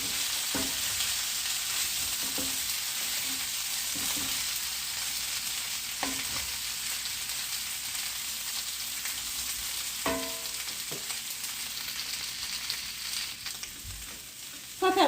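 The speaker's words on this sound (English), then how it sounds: "So really we're looking to heat them and we're looking maybe to brown them up a little bit." Precooked potatoes fry and brown in a hot pan with a continuous even sizzle, marked by occasional scrapes and taps of a utensil turning them, ending in a slightly louder stir; nobody talks.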